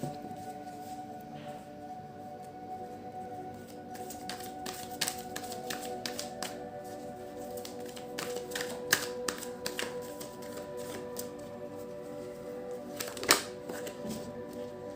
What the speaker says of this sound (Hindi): दोबारा शफल करेंगे हम।